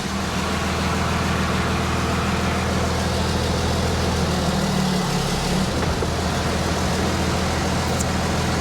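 A car engine runs steadily while driving around the block, a continuous low rumble with little variation throughout.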